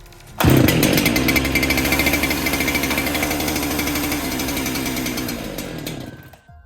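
A Husqvarna 365 chainsaw with a freshly cleaned carburetor fires up loud and close, revving roughly for several seconds before sputtering and stalling.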